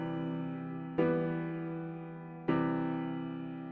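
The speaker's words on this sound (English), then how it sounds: "full strength reverb. So you can go ahead and listen." Two sustained synth chords from FL Studio with full-strength reverb, each struck sharply and then decaying into a long, washy tail.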